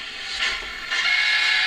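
A sustained, bright steam whistle from a Hornby HM7000 TT:120 model locomotive blows steadily, heard close up, growing slightly louder partway through with a faint mechanical hiss.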